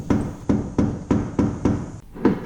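Sharp metallic strikes of a carbon-fiber-handled hammer tapping out a dent on a Ford Bronco, in a steady rhythm, about one every half second, with a brief pause before two more blows, close and loud.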